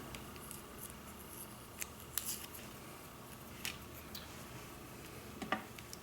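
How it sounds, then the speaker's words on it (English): Scissors trimming chipboard for a Halloween ghost rosette craft, a few soft separate snips and cuts spaced irregularly over quiet room tone. "this one is actually another chipboard, so I am gonna trim it down."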